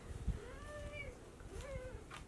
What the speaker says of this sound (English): Cat just attacked me.